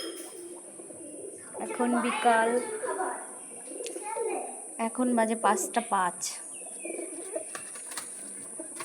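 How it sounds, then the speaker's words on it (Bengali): Pigeons feeding in their loft coo softly and repeatedly at close range, with small chirps and scuffles, while a person talks over them. "খেয়ে নাও সব পায়রা"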